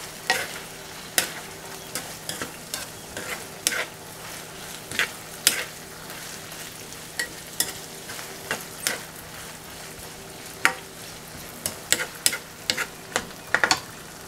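A utensil stirs carrot and potato empanada filling in a pan, giving repeated scraping clicks at an irregular pace over a soft, steady sizzle, close and alone with no voices.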